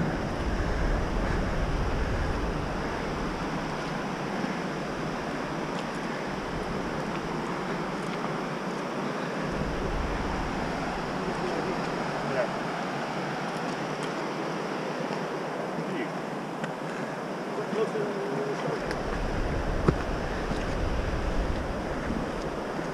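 Nevada Falls on the Mist Trail in Yosemite pours out a constant broadband roar of rushing water, steady and enveloping, with gusts of wind buffeting the microphone.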